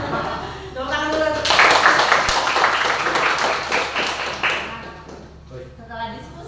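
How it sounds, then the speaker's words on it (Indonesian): Students in a classroom clap together for a classmate after a chemistry song, a dense burst of applause lasting about three seconds before fading, with talking before and after it. "Tepuk tangan dulu."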